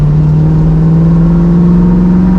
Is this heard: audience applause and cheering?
no